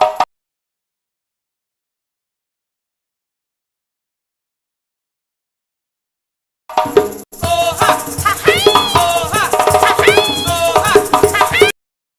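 A fiddle is bowed by a Tobago Performing Arts Company musician at a formal assembly, with sliding, wavering melodic lines lasting a few seconds after a brief burst and a stretch of silence.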